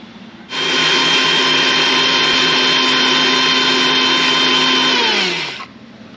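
Kitchen mixer grinder whirring loudly as it grinds dosa batter with hot water, starting abruptly, holding a steady high-pitched motor drone for about five seconds, then winding down and stopping.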